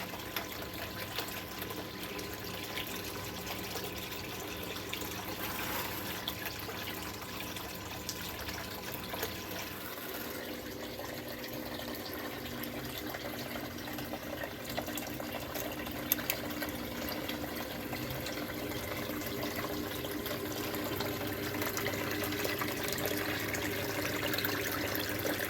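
Water runs steadily over a gold cleanup sluice, a continuous broadband rushing flow heard close and unchanging with no talk.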